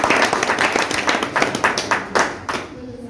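Enthusiastic applause from an audience at a foundation's certificate presentation ceremony, a crowd clapping in a loud burst that thins into scattered, uneven claps before fading.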